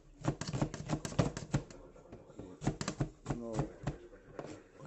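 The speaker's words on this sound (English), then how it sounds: "I always chop an onion" Quick knife strokes chop through an onion on a cutting board, sharp irregular taps in bursts, close and fairly loud, with a person talking over them.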